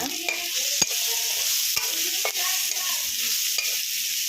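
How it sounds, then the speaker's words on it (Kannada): Tomato and onion frying in a pan with salt for a spicy ivy gourd palya, giving a bright steady sizzle with a few spatula taps and scrapes, close up and without any voices. "ಚೆನ್ನಾಗಿ ಫ್ರೈ ಮಾಡೋಣ"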